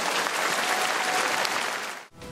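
An audience applauds a singer at a live show, dense, loud, sustained clapping that cuts off briefly near the end before resuming.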